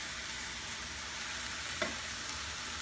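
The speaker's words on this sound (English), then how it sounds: "I'm gonna stir it around for like another 2 minutes on medium heat." Vegan chicken in barbecue sauce fries in a pan over medium heat while it is stirred, giving a steady, soft sizzling hiss with one brief scrape of the utensil near the end.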